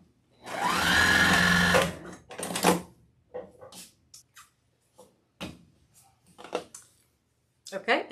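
A sewing machine stitches the sides of a fabric donkey hat wreath attachment, giving one steady close whir of about a second and a half, followed by light clicks and handling noises.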